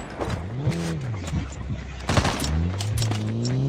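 Automatic gunfire bursts in Call of Duty Mobile battle royale, rapid overlapping shots mixed with game sound effects and a revving vehicle engine, while players talk over the action.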